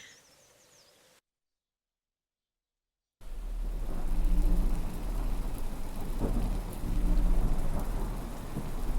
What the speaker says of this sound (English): Another storm.